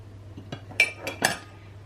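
A utensil clinks against a bowl while baking powder is stirred into pancake batter, a few scattered close taps and scrapes over a steady low hum.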